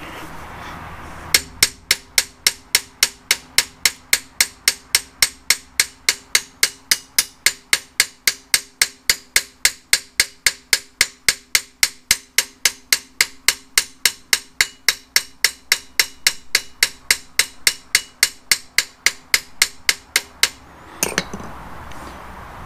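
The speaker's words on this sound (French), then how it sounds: "il faut déplacer les frappes du marteau" A hammer strikes a sheet-metal car body panel being reshaped during rust repair, with dozens of sharp, ringing metallic blows at a fast, very even rhythm for about twenty seconds before they stop.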